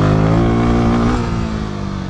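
A Royal Enfield Himalayan 450 motorcycle engine revs hard and steadily under load during a power wheelie, a loud close-up roar with rich harmonics that eases slightly toward the end.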